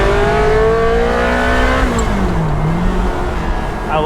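A 2002 Ferrari 360 Spyder engine sits right behind the cabin, holding a loud, steady rev that rises and then dips as the pitch falls away, with a brief tire chirp near the end.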